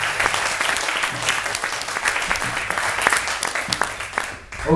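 Sustained audience applause at the Zappanale music festival, dense loud clapping from a large crowd that continues steadily throughout, with scattered voices mixed in.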